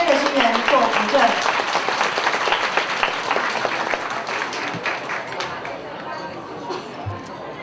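Wedding banquet guests applaud as the county magistrate comes up to the stage, loud, dense clapping that gradually thins and fades under crowd chatter.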